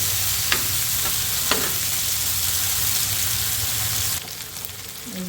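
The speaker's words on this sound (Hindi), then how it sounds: "ज़बरदस्त तड़का जी," Steady sizzling of a garlic tempering frying in hot ghee for saag, with a couple of faint stirring clinks; the sizzle drops slightly near the end.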